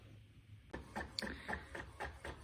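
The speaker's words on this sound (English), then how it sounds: "this is the Epson SureColor P400. And what we're printing out is the design we just worked on" An Epson SureColor P400 printer printing a design onto film in a small studio apartment, giving a quiet series of rhythmic mechanical whirs and clicks as the print head shuttles back and forth, heard alone at low level.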